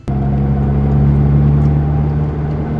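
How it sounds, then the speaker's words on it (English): Steady, loud low drone and rumble inside the cabin of a Mitsubishi Evo 9 MR at highway speed, with differential noise carried through hard bushings and a constant hum throughout. "now you can hear the differential throughout the cabin when you're driving pretty fast on the highway"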